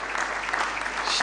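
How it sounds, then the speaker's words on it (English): An audience at a diaspora homecoming convention claps steadily in a brief, dense burst of applause. "Please give them a round of applause."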